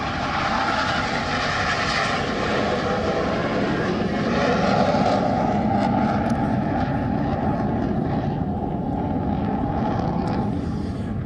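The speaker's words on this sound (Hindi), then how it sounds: "अब इनकी जगह हॉक एडवांस जेट ट्रेनर ने ले ली है" Hawk advanced jet trainer aircraft of the Indian Air Force aerobatic team fly overhead, a continuous loud roaring jet engine drone that swells slightly midway, with no talking.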